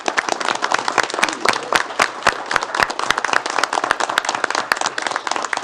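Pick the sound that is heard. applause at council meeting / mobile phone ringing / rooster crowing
applause at council meeting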